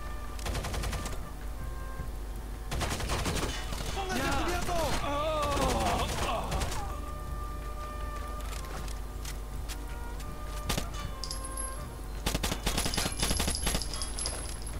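Gunfire in the video game Rainbow Six Vegas crackles in rapid bursts over a steady background game hum, with a few sharp electronic tones near the end.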